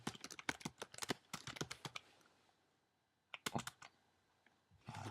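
Rapid clicking keystrokes on a computer keyboard in quick bursts, a pause of near silence, then more typing, close and crisp.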